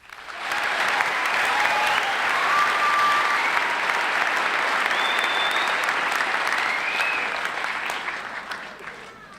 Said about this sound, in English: Please join me in one last round of applause for our student speakers.